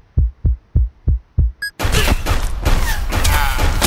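Video game gunfire: five or six evenly spaced heavy thumping shots, then a short electronic tone, followed by a dense, loud burst of rapid overlapping firing and explosions.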